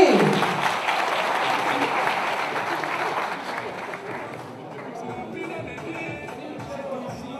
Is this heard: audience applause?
yes